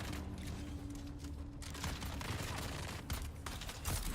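Rapid, sustained Vulcan cannon fire in the video game Dune Awakening, a dense continuous roar of gunfire that runs fairly faintly through the whole stretch with no pauses.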